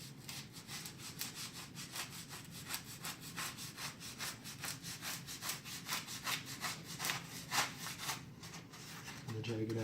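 A dull knife shaves excess foam off a lightweight heat-bonded Amtgard foam sword, making repeated close rasping strokes in a steady rhythm of about one scrape per third of a second, with no talk.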